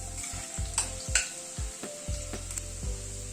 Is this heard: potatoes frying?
yes